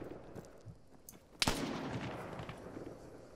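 Gunshots in the video game Arma 3 during a night street fight for a capture point: a few faint distant pops followed by one sharp, loud crack that trails into a long rumbling echo.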